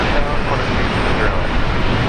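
Qantas flight 608 roars steadily at Brisbane Airport, a loud continuous aircraft engine rumble filling the whole stretch with no pauses.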